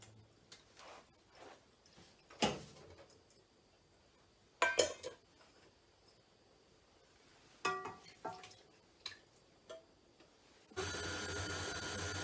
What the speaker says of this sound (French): maintenant le batteur tourne